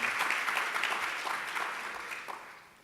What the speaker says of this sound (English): let's give the panel a round of applause